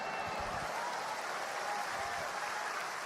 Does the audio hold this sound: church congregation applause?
yes